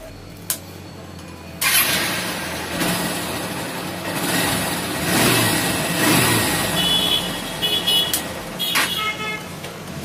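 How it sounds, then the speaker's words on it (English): A Honda Hornet 160R motorcycle engine fitted with an engine kill switch cranks briefly, catches and starts at close range, then idles and revs in several throttle blips that rise and fall before settling. "let's check the bike is starting or not."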